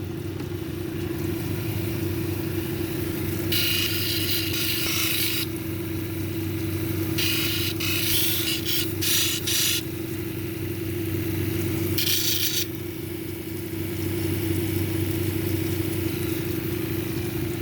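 A lapidary polishing machine with a 600 grit disc hums steadily while a piece of banded onyx is pressed against it, adding several short bursts of hissy grinding over the motor drone.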